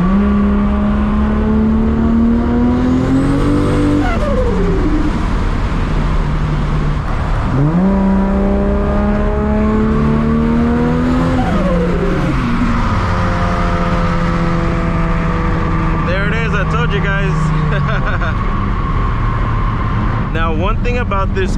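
A 1000+ horsepower Toyota Supra MK4 drives hard with a loud, close engine drone that climbs in pitch, drops at each gear change and climbs again, steady throughout.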